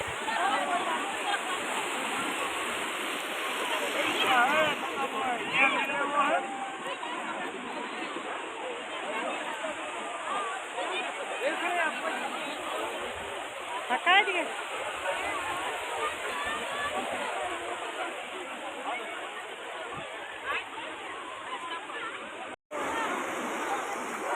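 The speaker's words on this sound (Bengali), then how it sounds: "এই ঠান্ডার মধ্যেও অনেকে এই গঙ্গাসাগরে ডুব দিচ্ছে" Crowds of pilgrims taking cold-weather dips in the sea at Gangasagar, a wide, continuous rush of surf and splashing mixed with distant crowd babble, with occasional nearer splashes and a brief cutout near the end.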